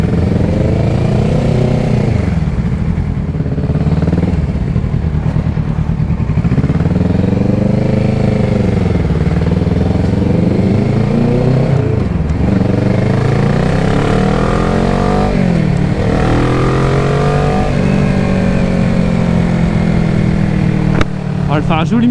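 A 2014 Kawasaki ER6-N motorcycle with a twin exhaust pulls through repeated rising and falling engine sweeps, loud and close throughout with wind rush, while riders talk over it.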